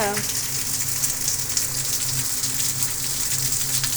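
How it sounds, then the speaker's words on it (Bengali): Steady rain falls on a rural homestead where a cow stands sheltering, a continuous broadband hiss and patter with a low rumble underneath, even and unbroken throughout. "আসলে বৃষ্টি হচ্ছে তো ও এখন হয়তো যেতে পারবে না"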